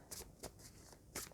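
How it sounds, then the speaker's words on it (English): Tarot cards shuffled by hand in a few quick riffling bursts, close and quiet, with no talk. "let's start shuffling the cards"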